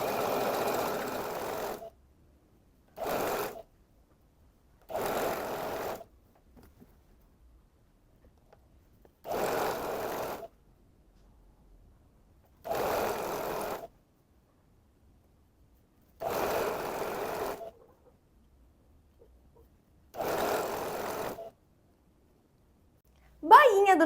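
Sewing machine stitching a double-fold hem along the ruffle of a viscose Ibiza-style dress, running in seven short bursts of one to two seconds each, separated by silences, fairly close and steady, with no talk over it.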